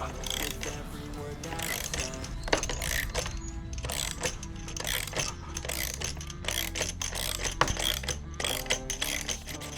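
A wrench works the rear axle loose on a 2025 Ducati Panigale V4S during a chain kit change, giving a fast, continuous ratcheting clatter of repeated clicks close by, with faint low background noise.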